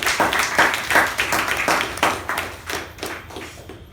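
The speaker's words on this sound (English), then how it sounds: "Let's give her a thunderous round of applause for her." Attendees at a club meeting giving applause, a few close, distinct hand claps in a loose rhythm over softer group clapping that tapers off toward the end.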